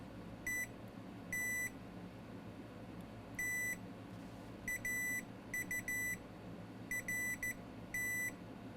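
Multimeter in continuity mode beeping while testing image filters on an iPad Air 2 board, a series of short and longer high electronic tones in irregular bursts over a quiet background hum.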